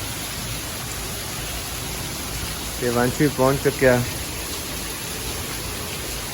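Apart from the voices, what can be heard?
rain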